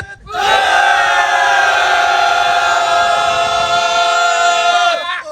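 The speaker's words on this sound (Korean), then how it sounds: "전방을 향해서 함성 5초간 하나 둘 셋" Protest crowd at a press conference denouncing workplace harassment lets out a unified roar for about five seconds, a loud sustained collective shout that starts abruptly, holds steady, then cuts off.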